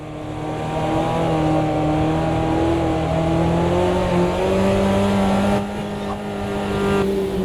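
Small race cars revving hard in Automobilista 2 (AMS2), engine notes rising and sweeping continuously through the whole stretch, loud and close with several overlapping pitches like multiple cars on track.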